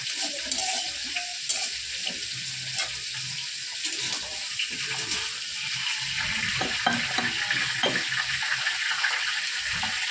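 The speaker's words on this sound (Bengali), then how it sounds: "এইদিকে মুগ ডালটা ভাজবো তারপরে বসাবো খিচুড়িটা" Moong dal sizzles and crackles in a pan as it fries for vegetable khichdi, with intermittent stirring scrapes and clinks over a steady hiss, fairly quiet and close.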